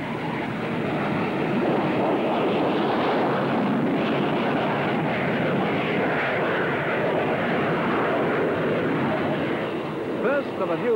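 The P-1127 jet aircraft with a vectored-thrust turbofan engine roars steadily at an air show, a broad sustained jet rush that holds constant throughout, with narration running over it.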